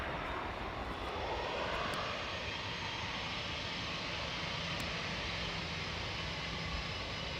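A British Airways Airbus A321 jet takes off at Amsterdam Schiphol Airport, heard from a distance as a steady, broad engine roar that holds at a moderate level throughout.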